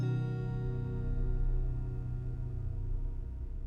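Guitar fed through a Sonicware Texture Lab granular effects processor and pitched down, heard as a deep, low, murky drone with a faint granular shimmer, sustained and fairly quiet throughout.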